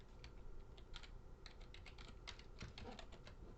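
Fingers type on a computer keyboard during a Python block coding class, making quick, irregular bursts of soft key clicks that are close and quiet, with no one speaking.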